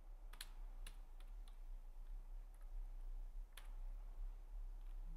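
Someone typing Python code on a computer keyboard: quiet, sparse key taps in small irregular bursts over a faint low hum, with no talking.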